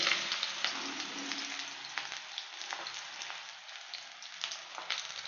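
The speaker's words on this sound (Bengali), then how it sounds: "তেল গরম হয়ে গেছে, বেগুনগুলো দিয়ে দিলাম।" Eggplant pieces fry in hot mustard oil in a pan, giving a steady crackling sizzle with popping spatters throughout, close and moderately loud, with no talking.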